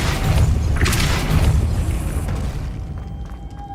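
The Depulsor spell in Hogwarts Legacy is cast with a loud booming burst and a deep rumbling body that gradually tapers away, leaving a faint steady tone at the end.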